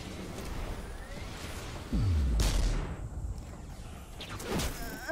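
A sniper rifle shot in the video game Destiny: one heavy low boom with a whooshing tail, followed by fainter distant shots and sweeps over a constant game ambience.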